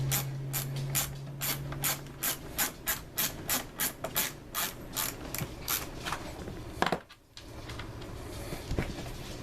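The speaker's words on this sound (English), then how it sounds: "Use the wrench, I mean the socket wrench." A socket wrench ratchets while tightening the water valve on a Frigidaire ice maker, a fast run of close clicking strokes that slows and spaces out, then a brief pause before a few more faint clicks.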